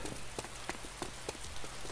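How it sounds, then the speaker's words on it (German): Steady rain patters on a surface in the video game DayZ, with scattered louder drops ticking through a dense, even wash of noise. "Ich glaube, es regnet."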